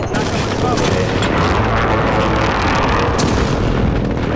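Loud, dense game combat in Call of Duty Modern Warfare, with a grenade blast booming amid continuous gunfire and explosions, filling the whole stretch without a break.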